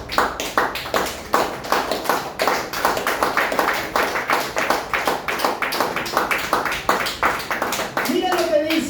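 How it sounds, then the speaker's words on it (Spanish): Church congregation clapping in praise during a sermon, a rhythmic burst of many hands beating a steady quick pulse throughout, with voices and music rising toward the end. "Denle aplausos al Señor."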